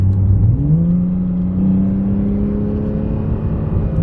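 A Porsche 987.2 Cayman fitted with a Top Speed Pro 1 exhaust revs up close to the microphone. The engine note climbs quickly in pitch, then holds a strong, even howl.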